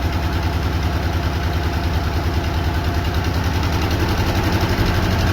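A box truck engine with low compression idles steadily and close, a low rumbling drone with constant vibration and no other sounds over it.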